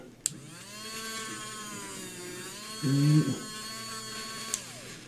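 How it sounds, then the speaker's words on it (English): A small drill whines steadily throughout, drilling into a plastic Bunny Asuka figure to fix a broken wrist, its motor pitch holding level, with a brief louder grinding burst midway as the bit bites in. "Try to drill it straight."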